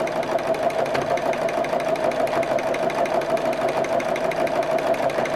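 Sewing machine running fast and continuously for thread painting on a small bag, a close, steady mechanical hum with rapid even needle chatter and no pauses.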